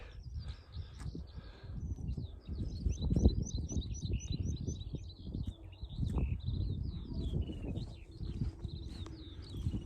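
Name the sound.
birds tweeting outdoors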